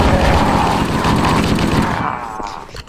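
Sustained rapid automatic fire from a 60-round assault rifle in the Halo game, loud and continuous for about two seconds before tapering off, with no talk over it.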